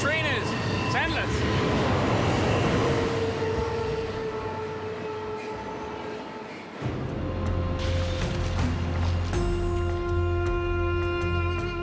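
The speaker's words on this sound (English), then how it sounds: "Pretty impressive how long this train is. It's endless." A long train rumbling past in Florida with sustained steady tones and rattling, the pitch shifting partway through as cars keep rolling by without pause.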